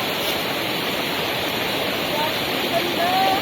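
Water flows at Namnel Dam in Cabangan, Zambales, making a steady, loud, broadband rush that stays unbroken from start to finish.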